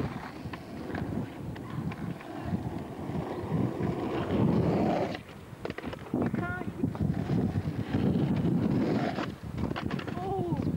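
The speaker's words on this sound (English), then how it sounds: "It's bloody windy here today" Strong gusty wind buffets the microphone in a loud, low rumble, rising and falling, with people talking underneath, at an outdoor skateboarding session in Auckland, New Zealand.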